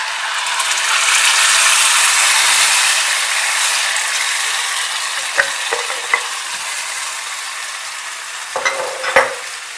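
Tomatoes poured into a hot pan for Bodrum çökertme kebab sauce give a loud, steady broadband sizzle that slowly eases, followed by a few sharp clinks of a utensil against the pan.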